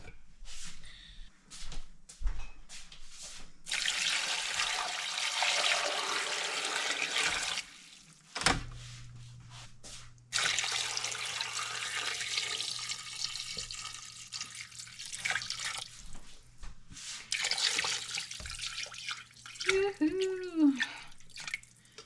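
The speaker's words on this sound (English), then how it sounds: "I'm going to get some water in this thing" Water runs steadily from a tap into a pot, with a short break partway through, filling for a long stretch; a brief voice sounds near the end.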